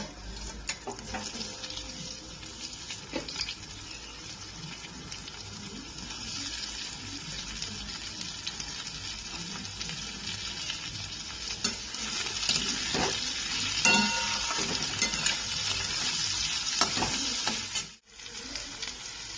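Steady oily sizzling of chopped onions frying fills the clip while a spatula scrapes and stirs now and then. It gets louder near the end and then cuts off abruptly.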